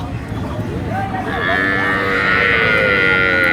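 A cow at Ambari cattle haat in Dinajpur lets out a long, loud moo that swells and holds near the end, over a busy market din with voices talking nearby.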